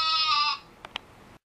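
A lamb gives one wavering, nasal bleat up close, followed by two brief faint knocks before the sound cuts off.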